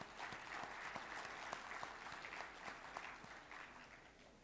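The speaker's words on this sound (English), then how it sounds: "Let's give them all a round of applause." An assembly audience at a democracy conference claps in sustained applause, a soft, steady patter from a crowd with a few sharper individual claps standing out.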